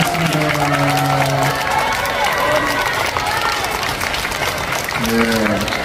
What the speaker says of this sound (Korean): 여러분들의 엄청난 공연을 선물해 주신 연주자분들께 다시 한번 큰 박수 부탁드리겠습니다.